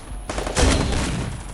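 A video game gunshot cracks out as a loud, close burst of gunfire, followed by a booming impact and a lingering noisy tail, without any talking.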